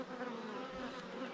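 Dense, steady hum of many honeybees swarming around an open hive frame during queen rearing on an overcast day, the agitated buzzing close and continuous throughout.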